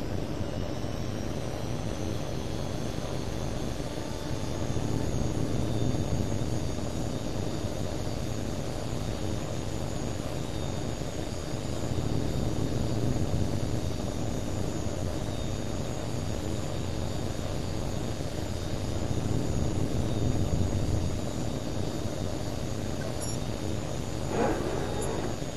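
A jet aircraft in the H.A.W.X. 2 combat flight game spooling up for takeoff, a steady loud roar with a broad rumbling drone that swells slightly and holds throughout.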